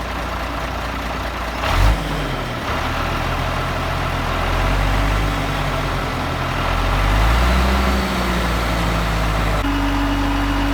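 A mobile crane's heavy diesel engine runs loud and close as the throttle is raised, rumbling steadily with rising and falling pitch sweeps as revs climb, then settling into a higher sustained drone.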